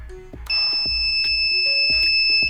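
A homemade door alarm buzzer sounds loudly, a sustained high electronic tone broken by sharp clicking pulses, close and alone without speech.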